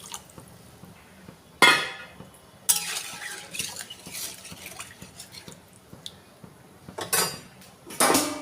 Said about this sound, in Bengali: দিয়ে এটা ভালো করে নেড়ে আমি বেশ কিছুটা জল দিয়ে দেব।